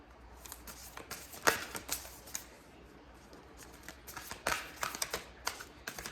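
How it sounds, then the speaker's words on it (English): Soft, scattered clicks and papery slaps of thick oracle cards being shuffled, faint and close, with quiet gaps between bursts over a low background hum. "don't like shuffling these cards. They're so awkward and thick."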